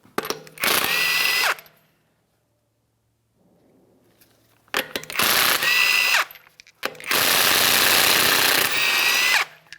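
Impact wrench loosening the 22mm lug nuts on the front wheel of a 2007-2013 Acura MDX: three loud, close bursts of whirring, hammering rattle, the first short and the last longest, with quiet gaps between.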